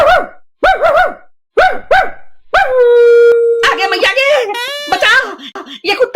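In a Hindi comedy sketch, a dog-like voice gives sharp repeated barks and then a long howling whine, loud and close, apparently a person imitating the dog.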